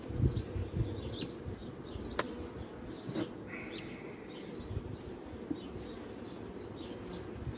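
Honeybees at a nucleus hive give off a continuous low buzz, fairly near and soft, while a few faint bird chirps come through in the background.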